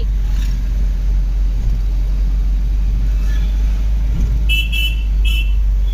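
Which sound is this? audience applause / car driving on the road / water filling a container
car driving on the road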